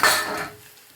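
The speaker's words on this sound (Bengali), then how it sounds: "ঢাকাটা খুলছি।" A lid is lifted off a cooking pan of chichinga posto, snake gourd cooked with poppy seeds. A single short metallic clank rings out close by and fades quickly.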